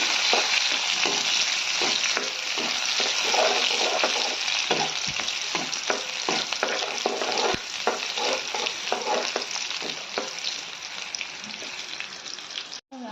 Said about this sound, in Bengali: তারপর আমি পাঁচফোড়ন দিয়ে দিব। তারপর এগুলোকে নাড়বো।